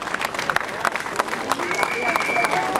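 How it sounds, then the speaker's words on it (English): Crowd applause for a third-placed rider at an under-23 cycling race podium ceremony in Rýmařov, outdoor clapping with sharp individual claps over a steady wash, with a whistle-like tone in the background. "Big applause for Jonas, ranked third here."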